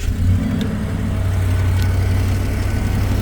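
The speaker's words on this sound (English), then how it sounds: "start the truck, let it warm up." A 2013 Ford F250 truck with a 6.2 V8 engine, heard as a loud, close, steady low rumble that rises slightly as if revving, with no voices present.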